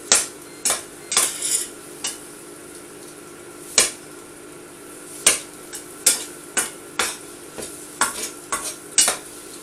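A spatula chops hot dogs inside a pot of hot dog hot pot with rice, beans and bacon, giving sharp repeated metallic knocks in an uneven rhythm over a soft background sizzle, close and alone without speech.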